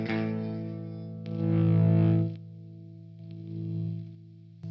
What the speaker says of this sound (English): first we'll test out the distortion part